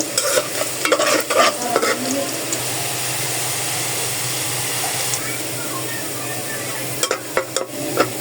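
Garlic sizzles in oil as a tempering for bottle gourd cooked with dal, a steady close frying hiss with scraping stirs and clinks at the start and end.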